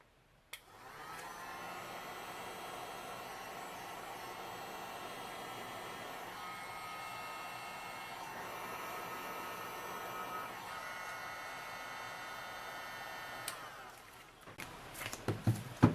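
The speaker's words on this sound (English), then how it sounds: "So this is a bit of a demonstration on how to handle a heat gun." A small heat gun blows over resin on a CD with a steady whirring hiss for about fourteen seconds, then cuts off, followed by a few clicks and knocks.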